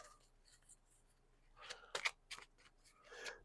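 Prototype playing cards are shuffled gently by hand, not riffled, giving a few quiet, close papery slides and flicks in short bursts against a near-silent room.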